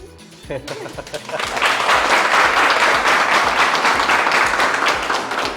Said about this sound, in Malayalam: പാർവതി സ്വന്തമായിട്ട് പാർവതിക്ക് വേണ്ടി കൈയടിച്ചുകൊണ്ട്